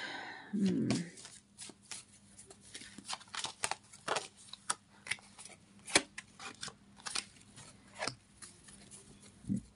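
Tarot cards are shuffled by hand at close range, giving a rapid series of crisp riffles and flicks with short pauses between them. A voice is heard briefly near the start.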